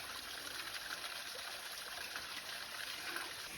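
A small forest waterfall flows steadily, a constant broadband rush of water with a soft trickling texture, fairly close and even in level throughout.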